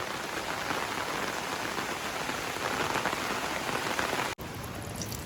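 Light, continuous rain falls with gusty wind the day after Cyclone Dana, a steady close hiss that runs unbroken, then briefly cuts out near the end before resuming.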